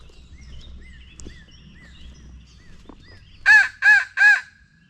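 A turkey hunter blows a crow call during a Pennsylvania spring gobbler hunt, imitating a crow with three loud, harsh caws in quick succession after a stretch of quiet outdoor ambience with faint distant birdsong.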